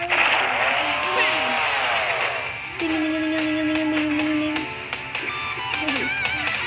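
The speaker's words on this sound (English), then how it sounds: "Chainsaw transform!" A buzzing chainsaw in a Roblox game on mobile revs and whines with shifting pitch, loud and close, amid game sound effects and some shouting voices.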